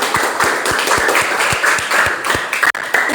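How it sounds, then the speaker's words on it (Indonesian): Classroom applause for a student presentation group, many hands clapping together in a steady dense burst that fills the room, with a brief dip near the end. "Beri tepuk tangan buat kelompok 4"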